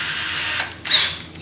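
A small bit drills a hole through a skate cross-country ski while mounting a Salomon SNS binding. It gives a close, high whine in two bursts with a short pause between them.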